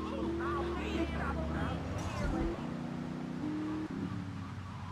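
A car cruising in GTA 3 Definitive Edition, its steady engine drone shifting pitch through gear changes, with someone talking over the driving.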